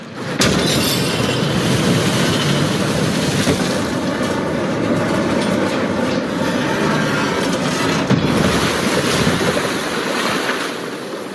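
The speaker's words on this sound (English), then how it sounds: "It worked. Water's going down." Water draining away in the video game Evil West, a steady loud rushing wash like surf and wind that fills the whole stretch with no voices.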